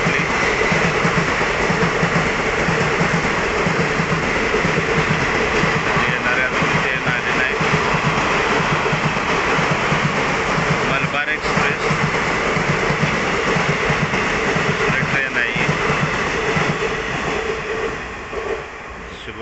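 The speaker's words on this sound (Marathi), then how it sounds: "ट्रेन आली" A train passes close by on a railway line near a village station, a loud continuous rumble of wagons and rhythmic wheel clatter that holds for the whole stretch and eases slightly at the end.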